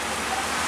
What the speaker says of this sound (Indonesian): Dari pagi lintas Tebo Muara Bungo diguyur hujan teman-teman.